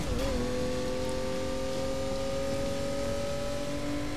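Steady mid-pitched car engine drone in the arcade racing game Ridge Racer Driftopia, holding a constant rev with a slight pitch shift at the start, loud and continuous with no talking.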